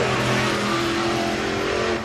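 A crate race car heading out onto the track at Needmore Speedway: a loud, close, steady engine drone with a droning tonal hum that holds for about two seconds.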